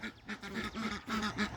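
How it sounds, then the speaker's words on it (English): Ducks on a farm property quack in a quick series of nasal calls, several overlapping honks in close succession, fairly faint and alone without talk. "Currently, the only birds we have on the property are the ducks."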